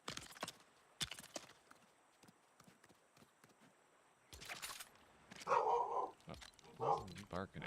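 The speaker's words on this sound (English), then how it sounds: "What are you barking at? Nobody's here." A dog barks in a few loud, close bursts near the end, after a stretch of scattered knocks and clatter.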